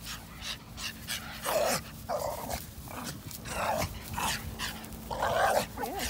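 A female dog makes playful noises in a whelping room: repeated bursts of panting, huffing and low growling over a steady background hum, fairly close, with no clear speech.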